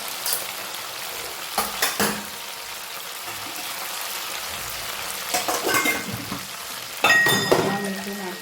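Spices fry in a pan over a full gas flame, giving a steady soft sizzle with a few louder bursts of stirring and a metallic clink near the end, close by.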